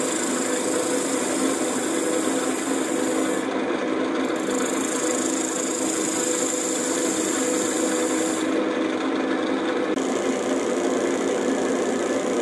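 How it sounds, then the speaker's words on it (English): Steady abrasive rubbing of sandpaper against a wooden heart-shaped box spinning on a woodturning lathe, a continuous close hiss that holds without breaks for the whole stretch, with slight changes in tone partway through. "Sanding on that, and then I can part it off"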